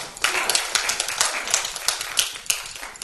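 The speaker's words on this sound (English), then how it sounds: "A big round of applause." Audience applause at a session of the WEF-2017 event, steady irregular clapping from a moderately sized crowd filling the room for about three seconds.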